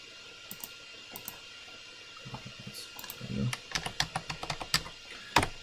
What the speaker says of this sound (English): then you just type into your calculator